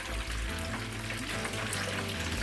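Fish and prawns deep frying in a pot give a steady, broad hiss of hot oil that stays even and fairly quiet, with no talking over it.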